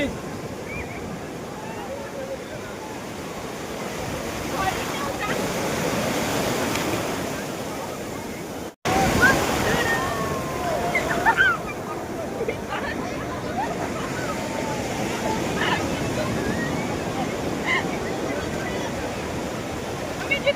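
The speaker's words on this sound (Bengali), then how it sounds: "ঢেউটা আসছে লাফাবি।" Sea waves surge and break on a beach near a lighthouse on a cold, windy day, a steady roar of surf with a brief dropout midway and people talking faintly in the background.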